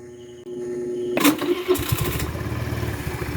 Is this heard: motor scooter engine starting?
yes